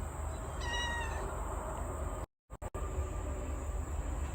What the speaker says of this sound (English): That's a good tomcat.